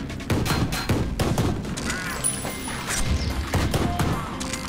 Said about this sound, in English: this is the most grenade launcher shotgun I've ever seen